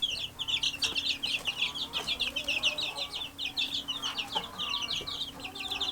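Baby chicks under a heat light cheep continuously in dense, overlapping high peeps, with a few clucks from nearby fowl, close and fairly quiet, no talking.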